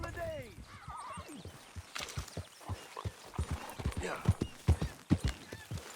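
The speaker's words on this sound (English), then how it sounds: "isso sim é um cavalo, olha só" In Red Dead Redemption 2, a horse gives a short whinny near the start, then its hooves clop steadily on the ground in an irregular rhythm, close and fairly soft.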